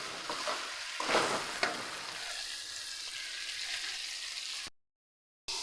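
Tomatoes frying in a pan with steady, loud sizzling throughout and a few scraping stirs near the start, cutting off abruptly near the end.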